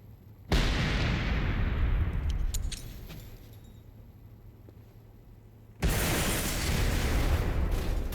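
Loud, roaring explosions in the video game Generation Zero cut in abruptly, one decaying into a rumbling tail before a second heavy explosion bursts in and sustains.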